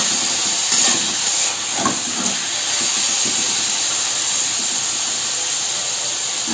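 Chicken chili frying in a pan, giving a steady, loud hissing sizzle across the whole stretch with no one talking.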